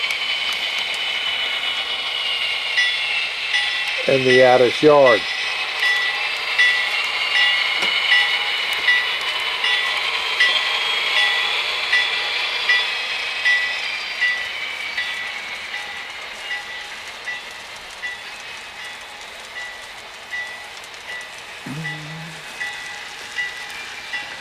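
A model railroad train rolls past the Addis, Louisiana yard on the Mid South Model Railroad layout, a steady close rumble of wheels on track throughout, with someone briefly narrating.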